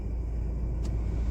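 Car air conditioner blower on high fan speed, a steady loud whooshing rumble with a brief faint click near the end, heard close with no talk.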